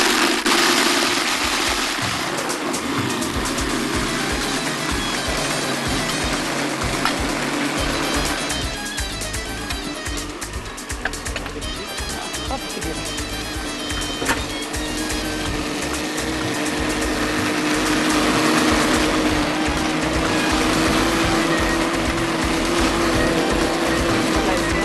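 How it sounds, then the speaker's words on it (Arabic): A kitchen blender whirs steadily as it mixes apricot juice with lemon juice and sugar, a loud continuous motor drone with a changing pitch that runs the whole time, with no voices over it. "نضرب بقى كل الكلام ده كده مع بعض لحد ما كله يختلط"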